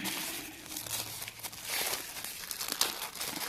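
A small plastic bag crinkles and rustles while a resin mixer and leveling table kit is unboxed, with soft, irregular crackles close by and no talking.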